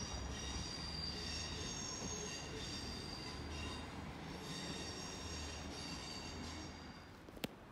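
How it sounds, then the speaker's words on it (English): A Great Western Railway Castle set arrives at Exeter St Davids on a service from Penzance, with a steady rolling rumble, high wheel squeal and faint rhythmic clatter, and a sharp click near the end. "coming in now will be a terminating Great Western Railway service from Penzance, run by a Castle set."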